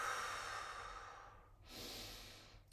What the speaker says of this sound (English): Fiery breaths.